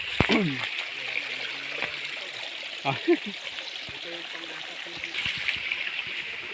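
A forest creek in a banana-growing area trickles and splashes softly in the background, low and steady, with a few nearby knocks and footsteps and a voice speaking over it.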